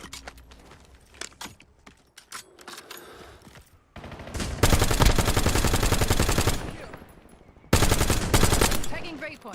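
Video game gunfire rattles in long automatic bursts, loud and close, with a few scattered shots and quieter sounds leading in before two sustained volleys.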